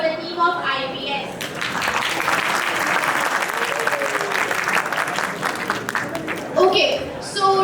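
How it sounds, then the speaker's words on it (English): Applause for a team at an oath-taking ceremony, as a large audience claps loudly and steadily for several seconds, with a voice speaking before and after the clapping. "a huge round of applause for the team of IPS"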